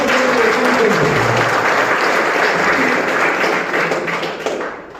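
An audience at a 5-star congratulations ceremony for MGMM Patabeda Mines breaks into loud, dense applause that holds steady and then thins out toward the end.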